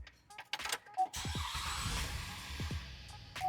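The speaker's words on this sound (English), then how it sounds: "Let's go ahead and start the car." A 2012 Chevrolet Impala cranks and catches after a few faint clicks, then settles into a steady, even idle heard from close by.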